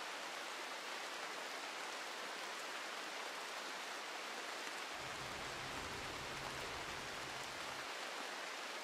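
Steady rain falls in the colony-building game RimWorld, a dense, even hiss of drops that runs unbroken throughout, with a low rumble swelling in midway for a few seconds before fading.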